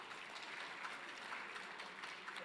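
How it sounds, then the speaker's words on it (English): Audience applause at an education sector conference session, a dense, steady wash of clapping from a large crowd, fairly distant and muffled. "Give yourselves a big hand of applause."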